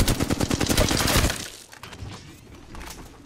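Rapid automatic gunfire in the Apex Legends arena shooter, a loud burst of closely spaced shots with shattering impacts that stops abruptly after about a second, followed by quieter game ambience.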